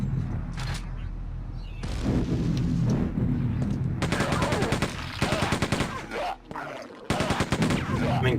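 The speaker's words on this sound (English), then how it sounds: "Like I said, the explosions are really good in this." Grenade explosions and rapid gunfire in the video game Quake 2, with dense bursts of shots and booming blasts over a loud, continuous game soundscape.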